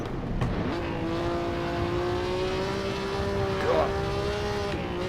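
A rival's historic 1950 Formula 1 car roars during a close race at the Bremgarten circuit in Assetto Corsa, a sustained engine drone holding pitch with a brief swell, heard under the player's car sound.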